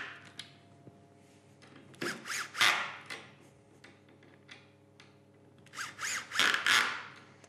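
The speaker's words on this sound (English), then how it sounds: "Akkuschrauber" A Festool cordless screwdriver whirs in two short bursts, its motor pitch rising as it drives a screw, with quiet clicks and pauses between.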